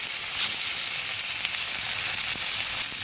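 A piece of katla fish fries in hot, previously used oil, producing a loud, continuous crackling sizzle with small pops, close up and with no voices.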